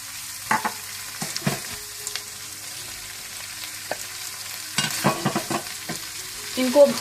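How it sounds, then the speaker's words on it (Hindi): Boneless chicken with mushrooms and bell peppers is stir-fried for a pasta dish, a soft steady sizzle in the pan punctuated by irregular scraping and clanking stirs of a spatula, close and clear with no talk. "इनको भी आप अच्छी तरह थोड़ी देर के लिए भून लें।"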